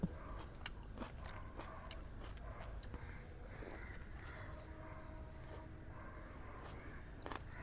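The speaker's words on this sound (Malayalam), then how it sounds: "ഞാൻ നട്ടു വളർത്തിയ എൻ്റെ ആദ്യത്തെ തക്കാളിമേന്ന് പറിച്ച ആദ്യത്തെ തക്കാളി ഞാൻ തന്നെയാണ് തിന്നത്" Someone bites into and chews a fresh home-grown tomato picked from a terrace garden, giving faint, close, repeated soft crunches and wet chewing sounds over a quiet background.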